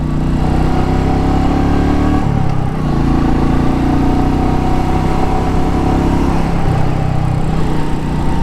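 A Royal Enfield motorcycle engine drones loud and steady while riding, a continuous low thrum with a slight shift in pitch partway, and no voices.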